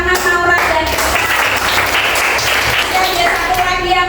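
Indonesian classroom students clap for a classmate, a loud burst of applause of several seconds, mixed with speech and chatter from voices in the room.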